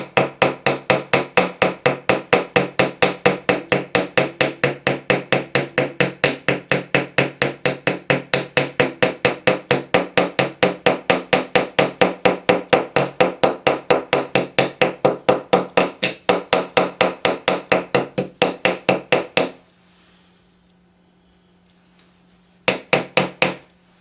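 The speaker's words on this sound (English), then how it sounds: "Making sure that there are hammer marks everywhere" A hammer texturing a metal spiral pendant, rapid, evenly spaced ringing metallic strikes repeating steadily for about twenty seconds, then a quiet pause and a few final taps.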